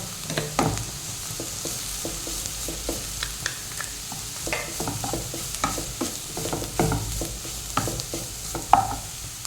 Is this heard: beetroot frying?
yes